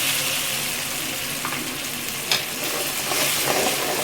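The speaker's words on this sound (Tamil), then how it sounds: "நம்ம தக்காளி அரைச்சி வச்சுருக்கிறேன் ஒரு மூணு தக்காளி ஊற்றிடலாம்" Ground tomato is poured into onions frying in oil, giving a loud, dense and constant sizzle with a few light stirring scrapes, heard close up without any talking.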